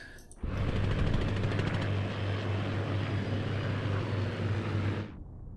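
A propeller fighter's engine roars steadily through a Battle of Britain dogfight in the game Scramble: Battle of Britain, a loud continuous drone that starts and cuts off abruptly.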